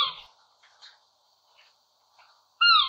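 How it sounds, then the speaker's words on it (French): A Eurasian scops owl gives faint, thin, cat-like cries in a quiet night setting, with several soft repeated notes followed by one louder, closer call at the end. "C'est le hibou petit duc"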